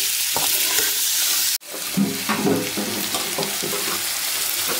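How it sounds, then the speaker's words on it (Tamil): Chicken pieces fry and sizzle in hot oil in a pan, stirred with repeated scraping clatters after a brief break, a steady close hiss throughout. "இது நல்லா ஆயிலே வந்து ஃப்ரை ஆகட்டும்."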